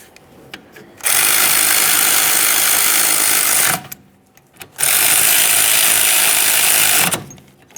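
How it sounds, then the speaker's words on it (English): Two long, steady bursts of mechanical whirring from a power ratchet run down the caliper mounting bolts on the rear brakes of a 2013-2020 Ford Fusion, each lasting a few seconds, loud and close, with a short quiet gap between them. "After you have them started in, snug them up, torque them to 66 foot-pounds."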